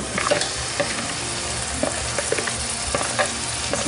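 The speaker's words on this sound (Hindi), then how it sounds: "अभी मैरिनेटेड मटन डाल रही हूँ मैं" Marinated mutton sizzles in hot oil in a pan for Hyderabadi tahari, with steady frying crackle and a spoon scraping and stirring in irregular strokes, close and alone.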